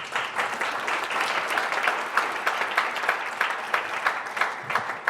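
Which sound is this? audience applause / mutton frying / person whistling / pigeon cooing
audience applause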